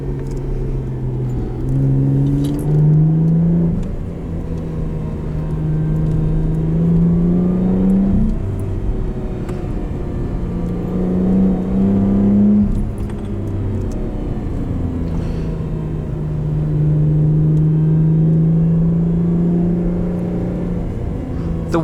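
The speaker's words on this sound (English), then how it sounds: "This car is fitted with the Lotus Sports exhaust." A 2012 Lotus Evora IPS fitted with the Lotus Sports exhaust, driven on tight twisty roads, its engine note rising and falling through repeated pulls and shifts, loud and steady from inside with no talking.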